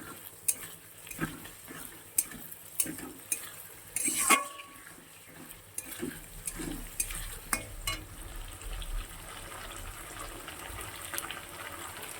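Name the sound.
cumin and ginger-garlic paste frying in a pan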